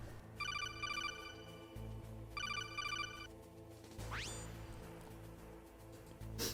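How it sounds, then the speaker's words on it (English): A phone call ringtone from the video game Metal Gear Solid rings in two bursts of bright electronic trills, followed by a rising sweep, over a low steady game hum. "Then we get a phone call."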